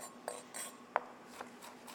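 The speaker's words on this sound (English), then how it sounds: "I'm just cutting some nice thin planks." A knife cuts carrots into thin planks on a cutting board, giving a few soft, sparse taps and scrapes, quiet and close, with no talk.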